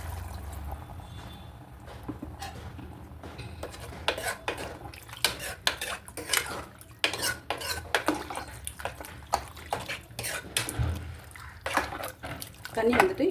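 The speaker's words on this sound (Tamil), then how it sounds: "இப்போது நம்ம தண்ணி ஊற்றிக்கலாம்." Water is poured into a pan of mutton intestine masala, with scattered clinks and scraping of utensils against the metal pan, fairly quiet and irregular throughout.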